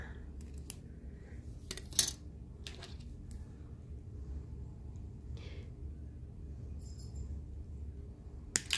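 Wire cutters trim jewelry wire for a woven pendant, giving a few faint, sharp metallic snips and clicks spaced apart over a quiet room background.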